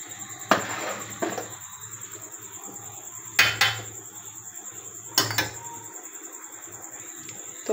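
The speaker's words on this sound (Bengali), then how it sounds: "এখন মাংসগুলো বিরিয়ানির মধ্যে দিয়ে দেবো" Cooked beef is spooned into a pot of beef biryani. A few sharp clanks and scrapes of a utensil against the pot come at irregular intervals over a faint, steady background hum.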